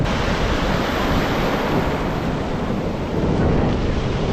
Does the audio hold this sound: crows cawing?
no